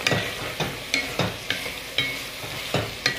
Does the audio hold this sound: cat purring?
no